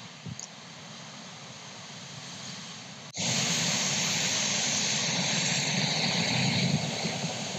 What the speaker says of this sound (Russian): О, волна идет хорошая.